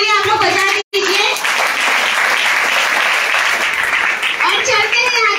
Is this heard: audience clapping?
yes